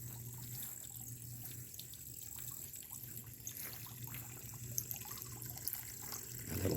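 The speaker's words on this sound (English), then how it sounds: "A little fountain is going." A small garden fountain runs steadily, a faint close trickle of falling water over a constant low hum, with no talking.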